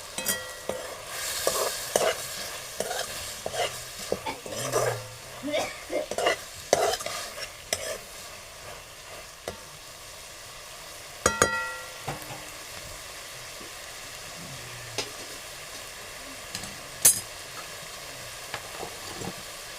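Banana flower vegetable curry cooking in a pot, stirred with a spoon: close, uneven scrapes and clacks over a soft sizzle, busiest in the first eight seconds, then sparser with occasional louder knocks. No one speaks.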